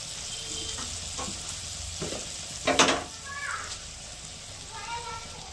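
Spices with salt and turmeric fry in a pan for a Bengali eggplant and bori curry, a steady sizzle broken by occasional spatula scrapes and clinks, with a voice briefly heard.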